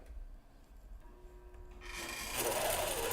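A sewing machine runs in a quiet room, its motor whirring steadily and growing louder and busier as stitching speeds up toward the end, with no talking.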